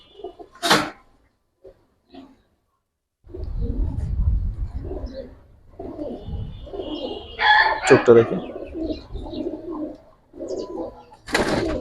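Giribaz pigeons at a pigeon market give low cooing calls through the middle of the clip, mixed with people talking close by and general market bustle, with a few sharp noises at the start and end.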